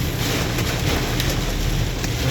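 Heavy rain pours during a storm in Hemayetpur, Savar, heard from a vehicle being driven slowly through it: a dense, loud, continuous roar of rainfall with no break.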